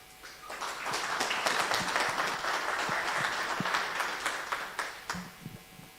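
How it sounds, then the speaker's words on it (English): Sustained audience applause at a fintech breakfast event, dense clapping from a seated crowd that builds quickly, holds steady for several seconds, then thins out near the end. "A better round of applause"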